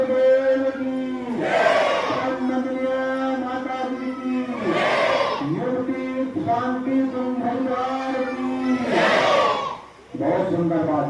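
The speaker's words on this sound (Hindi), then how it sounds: "एक बार 3 बार और जय घोष लगाएं।" A large crowd at a Jyoti Kalash Yatra event in Deoband, Saharanpur chants victory cries for Gayatri Mata in loud, repeated rhythmic call-and-response swells, several voices shouting together in waves.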